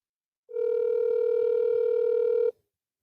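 A telephone call rings out on speakerphone as one steady, buzzy electronic tone lasting about two seconds before cutting off cleanly, with no other sound around it.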